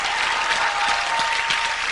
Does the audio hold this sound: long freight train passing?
no